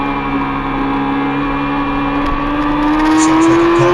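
Racing motorcycles on a track drone loudly and steadily, the pitch slowly climbing as they accelerate, with crowd-like noise beneath.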